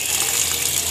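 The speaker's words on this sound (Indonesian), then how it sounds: "Kita siram kocor banyak supaya basahnya benar-benar rata ya dah." Water poured generously onto a potted aglaonema gushes and splashes steadily at close range, a continuous hissing pour with no pause and no voices.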